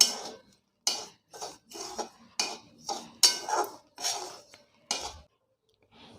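Semolina being dry-roasted and stirred in a pan, about ten distinct metallic scrapes and clinks of the spoon against the pan in a steady rhythm, close with silence between strokes.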